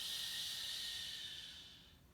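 A long, breathy exhale during a yoga stretch on a mat, soft and close, tapering off gradually with no speech.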